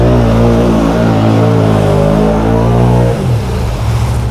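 A 650 XMR ATV on mud tires roars loudly as it accelerates uphill, its engine revving in a rising, strained drone that drops off abruptly after about three seconds.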